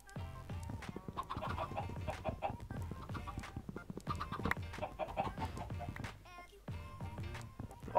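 Chicken clucking in the video game Minecraft, short repeated clucks mixed into a busy bed of game sound and music that runs steadily throughout.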